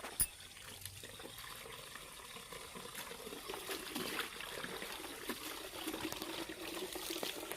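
Water running from a tap as a woman fills a vessel outdoors in a village, a steady splashing trickle over ambient noise, with a brief knock at the start.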